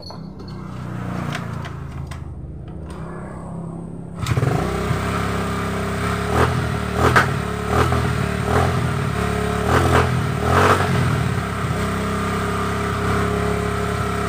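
Honda Vario 110 scooter engine, an older model with a drive fault so the rear wheel won't turn, revved repeatedly with rising and falling bursts, loud and close, after a few seconds of quieter idle.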